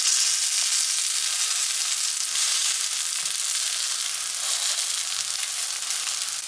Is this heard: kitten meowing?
no